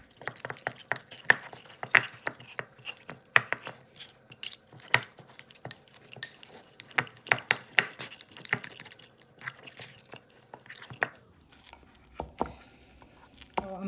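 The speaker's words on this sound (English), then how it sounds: "I'm just going to mix that together" Softened cream cheese and smoked paprika are worked together in a bowl, giving irregular close scraping and clicking taps of a utensil against the bowl, quiet and uneven throughout.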